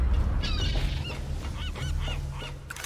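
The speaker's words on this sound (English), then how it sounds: "Bird." A bird in the Tomb Raider video game honks repeatedly, goose-like, loud and close over a low rumbling game ambience.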